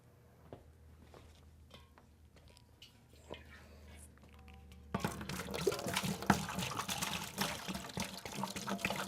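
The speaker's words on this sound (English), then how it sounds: "So we're going to put 6 gallons of water in here to test to make sure that" Water runs into a 6 gallon plastic winemaking bucket being tested for leaks: scattered drips and small clunks give way halfway through to a steady, splashing gush of tap water pouring close by.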